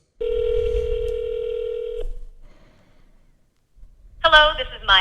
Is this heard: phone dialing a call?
yes